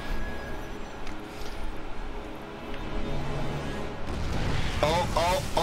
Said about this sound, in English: the third base is being shelled by the tanks